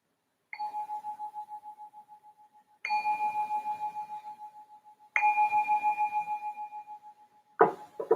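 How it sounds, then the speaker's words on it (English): A meditation bell is struck three times at slow, even intervals, each strike ringing out with a clear sustained tone that slowly fades, followed by a brief clatter at the end. "I'm going to ring this bell and to signal the start of this meditation."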